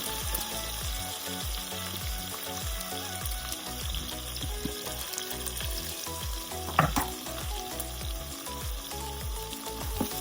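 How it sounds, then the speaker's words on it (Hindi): Vegetables fry with spice masala for khichdi, giving a continuous bubbling sizzle close up with rhythmic stirring under it and one louder scrape partway through. No one speaks. "और मसाला के साथ 1-2 सेकंड तक इसे बढ़िया से भून लीजिए"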